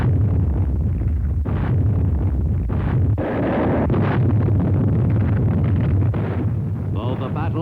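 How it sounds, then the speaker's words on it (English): Heavy naval gunfire from WWII warships shelling Palau beaches before the invasion, a dense, loud, rumbling barrage with repeated deep booms and blasts layered over wind-like roar, continuous throughout. "the Navy's warships sought to soften up the beaches by the final pre-invasion bombardment."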